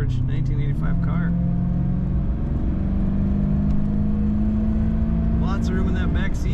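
A 1985 Cadillac Fleetwood Brougham on the road: a steady low engine drone and road hum from inside the car, continuous and fairly loud, with a voice talking over it.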